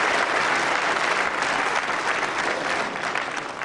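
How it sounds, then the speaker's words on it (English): An audience at a wrestling match breaks into sustained, dense applause for both wrestlers after a close fall, full and even throughout and easing slightly at the end. "Again, deserved applause for both."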